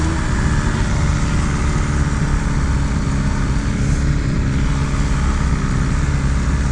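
A 2022 BMW S1000RR 208 hp superbike engine droning steadily and loudly, a continuous low rumble with wind-like roar and no talk.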